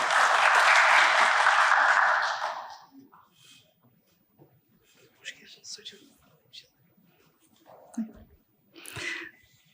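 Audience applause greets a university vice-rector stepping up to the podium at an event, a bright burst for about two seconds that fades quickly into quiet room sound and scattered voices.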